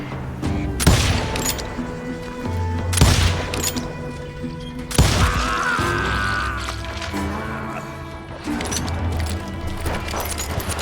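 Gunshots ring out in the Western game Call of Juarez: Gunslinger: sharp, loud single cracks at roughly two-second intervals, about five in all, over a low droning background.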